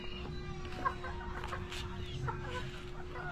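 Chickens clucking softly at a distance, scattered short calls over a steady low hum, faint and intermittent across a few seconds.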